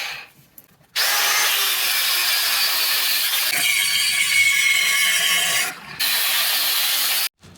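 A loud 4.5-inch cutoff disc grinds through metal continuously for several seconds on an RX-8, briefly pausing and resuming, a harsh high abrasive whine close up with no voices.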